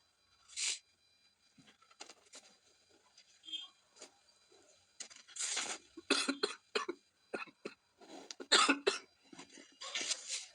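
A series of coughs, some sharp and close, scattered irregularly among quieter shuffling and rustling noises.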